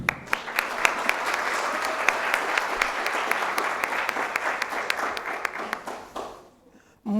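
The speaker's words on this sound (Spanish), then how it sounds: "Un aplauso." An audience applauds in a steady, moderately distant burst, with distinct individual claps standing out, then the clapping thins and fades away near the end.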